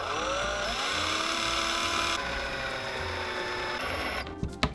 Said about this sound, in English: My favorite thing, sanding.